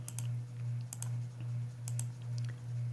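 Light keyboard typing in quick scattered clicks, a few short bursts of keystrokes over a steady low electrical hum.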